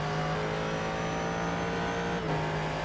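Ford GT3 race car engine in the iRacing simulator at Road Atlanta, a steady loud droning whine with layered harmonics held at high revs, briefly dipping as the pitch shifts near the end.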